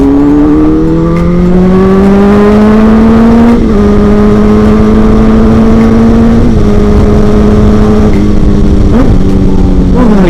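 A motorcycle is ridden at full throttle, and its engine howls loud and close. The pitch rises steeply, dips at each gear shift and rises again over several shifts in a row.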